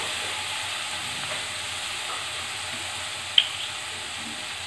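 Soy sauce sizzling in a hot pan while making chili paratha, a steady close frying hiss with one brief sharp crackle partway through, no talking.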